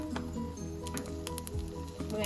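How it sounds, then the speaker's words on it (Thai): Cooked rice and blanched, sliced vegetables sizzle in a hot pot for Korean bibimbap, a steady close crackle with occasional soft scraping as the ingredients are arranged. "เมื่อหม้อร้อนเราใส่ข้าวลงไปนะคะ"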